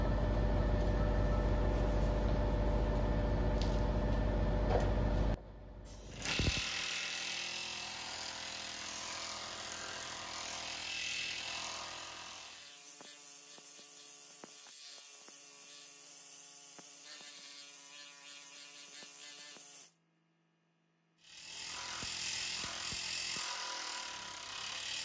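Pneumatic planishing hammer rapidly striking a TIG weld seam on steel sheet, a loud sustained buzzing hammer chatter that stops, restarts with a steady hum, cuts out briefly, then resumes at close range.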